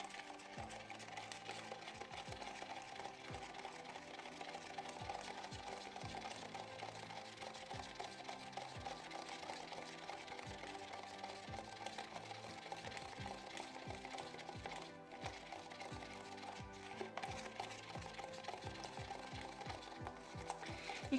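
A small hand whisk stirs powdered milk paint in a flat-bottomed container, giving a steady, fast rhythmic clatter and swish that runs continuously and close up throughout.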